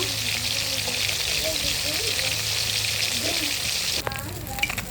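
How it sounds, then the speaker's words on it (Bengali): Fish frying in a wok with a loud, continuous close sizzle, a few faint murmurs of speech underneath, and a brief clatter near the end. "তো একটু অপেক্ষা করবেন মাছটা ভাজার জন্য"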